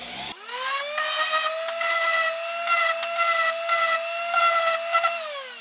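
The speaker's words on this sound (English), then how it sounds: "you can do it with an electric sander, which I'm going to do" An electric power sander runs steadily and loudly while chamfering the bottom edge of a wooden table leg, a continuous whining motor tone with slight rises and dips as it bears on the wood.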